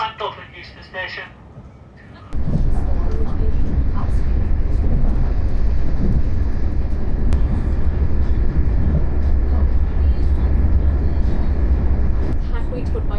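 An Irish Rail train on the Cork to Dublin Heuston service rumbles steadily from inside the carriage, a loud continuous rolling drone that starts abruptly after a brief quieter moment with talk.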